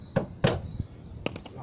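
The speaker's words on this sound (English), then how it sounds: "knock it towards the pillar." Sharp knocks as a plastic trim piece is tapped off a Vauxhall Opel Astra G Mk4: a couple of close, hard impacts followed by a quicker cluster of lighter taps, no talking.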